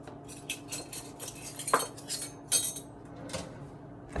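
A measuring spoon scoops chia seeds from a container in a kitchen, making close light clinks and scraping taps at irregular intervals, with a few sharper metallic knocks in between.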